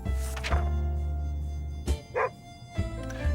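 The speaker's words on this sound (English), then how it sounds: "Is that a dog barking?" A dog in a video game barks a few times in short, separate bursts over a steady low hum, fairly close and moderately loud.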